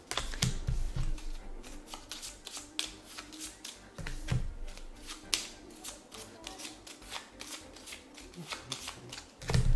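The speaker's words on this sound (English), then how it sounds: "I have to shuffle this." A deck of playing cards for the Arkham Horror card game gets riffle-shuffled up close, bursts of crisp, rapid flutters repeating in quick succession with small taps between them.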